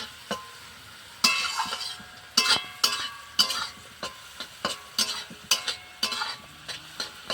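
Fried rice with chicken being stirred in a large wok, a spatula scraping and knocking against the metal in a quick irregular rhythm of about a dozen sharp strokes over a soft sizzle, close and with no talk.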